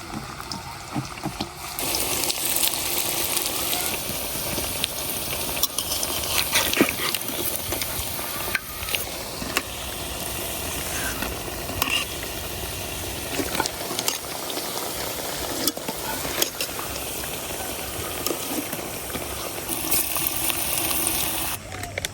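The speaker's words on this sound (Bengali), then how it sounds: "আমার সবগুলো পাকুড়াই ভাজা শেষ," Spinach pakoras bubble and crackle in hot oil, a busy, continuous frying sound with occasional louder spits and stirring, steady and close throughout.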